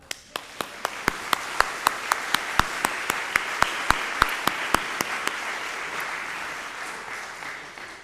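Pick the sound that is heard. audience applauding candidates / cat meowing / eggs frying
audience applauding candidates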